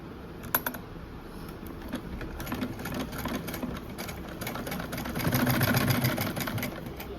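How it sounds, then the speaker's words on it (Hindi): A sewing machine runs a straight stitch along the pocket seam of a pair of trousers. It hums steadily and close by, with a louder, busier run of stitching near the end and no talking. "अब हम यहाँ पे सीधी सिलाई लगाएंगे सबसे पहले।"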